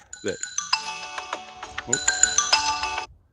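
A mobile phone ringtone plays a bright, repeating electronic melody for about three seconds during an outdoor live stream above the apple orchards of Wenatchee, with someone speaking briefly underneath.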